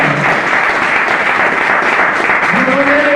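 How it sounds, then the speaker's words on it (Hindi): A large audience at a network-marketing business meeting claps steadily and loudly throughout, a dense, even wash of applause, with a voice rising above it toward the end. "उनके लिए मैं चाहूंगा अब तक का सबसे जोरदार तालियों के साथ उनका मिस्टर रंजीत कुमार वर्मा"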